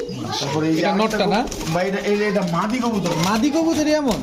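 Pigeons of show and racer breeds, including Pakistani teddy types, coo steadily and close by in rolling, wavering calls that fill the whole stretch.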